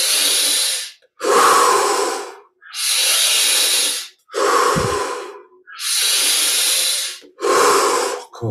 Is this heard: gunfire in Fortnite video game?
no